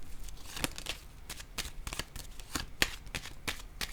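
Oracle cards being shuffled and handled, a run of quick papery riffles and flicks with sharp card snaps at irregular intervals, close and fairly quiet with no talk.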